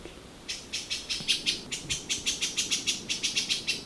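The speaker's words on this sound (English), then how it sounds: "hearing that bird while we're on this trail" A bird calls on a jungle trail near Lagoinha do Leste beach in Florianópolis, Brazil, a rapid series of about twenty evenly spaced high chirps at moderate distance, clear over quiet background.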